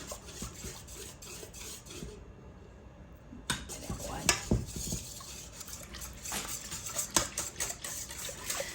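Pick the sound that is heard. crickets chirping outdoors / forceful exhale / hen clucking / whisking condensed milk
whisking condensed milk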